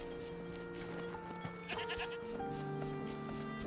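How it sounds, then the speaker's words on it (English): A goat bleats in the video game Wuthering Waves, a few wavering, nasal cries over a constant bed of game music and ambience, moderately loud and fairly close. "Goat, come here."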